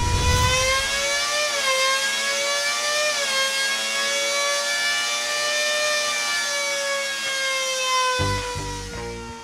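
A Cosworth V10 engine revving to 15,000 RPM on a dyno, a loud piercing high-pitched howl that holds steady with slight pitch dips, then a mechanical clatter near the end.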